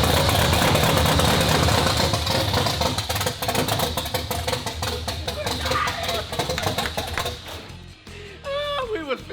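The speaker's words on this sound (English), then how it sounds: "we're gonna try to bust this engine off" An old 1967 Chevy Camaro RS engine sputters and runs loudly with a rough, uneven idle, fading somewhat before a voice speaks briefly near the end.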